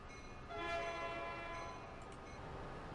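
A train departing in the rail simulation game Transport Fever gives off a sustained horn-like tone over rolling rail rumble, swelling briefly then holding steady throughout.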